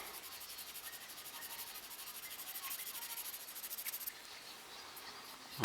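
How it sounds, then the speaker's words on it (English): Steady, fine abrasive rubbing of 400 grit sandpaper over plastic model kit parts, a continuous close scratching with a slight change in texture near the end, no voices. "Get 400 grit. Let's file these down."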